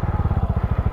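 A new Mash TT40 motorcycle, a retro-style single, pulling away with a steady low pulsing engine beat, loud and close, firing in an even rhythm throughout.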